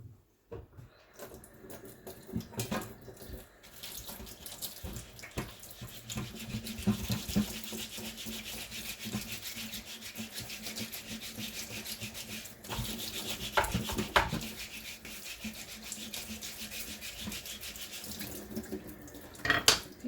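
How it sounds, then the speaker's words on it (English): A brush scrubs kitchen items under hot running tap water at a sink, a steady rush of water with repeated rubbing and scraping strokes, louder bursts near the end. "one brush and hot water later."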